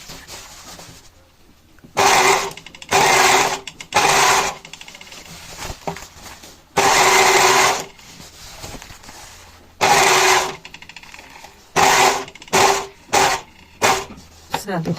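Sewing machine stitching the hem of jeans, running in loud bursts of a second or two separated by pauses, with a final string of short stop-start runs.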